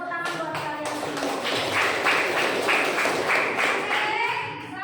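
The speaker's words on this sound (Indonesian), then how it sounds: "Tepuk tangan buat kalian semua." A classroom of students breaks into applause, a dense, steady patter of many hands clapping together for several seconds, fairly loud and close, fading slightly at the end.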